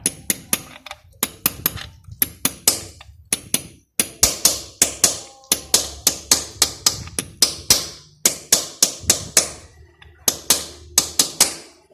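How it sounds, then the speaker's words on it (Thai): A seal is tapped into place on the kick-start mechanism of an automatic Yamaha scooter, a long run of sharp, close metallic taps in quick bursts with brief pauses between groups. "เคาะซีนลงไปนะครับ"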